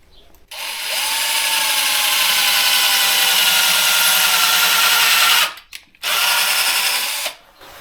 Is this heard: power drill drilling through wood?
yes